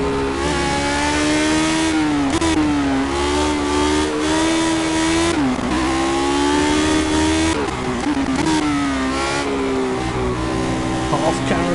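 Lotus 72D racing car engine in a racing video game, a high, strained whine that rises and falls with gear changes and throttle over dips and hills on the Nordschleife, with someone talking over it.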